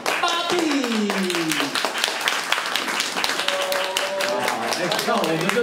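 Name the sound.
audience applauding the cast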